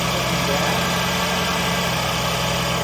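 A Buick Enclave engine runs and idles right after being brought back to life, earlier noted as misfiring, producing a continuous steady low rumble with an even pulse, close and loud throughout without a break.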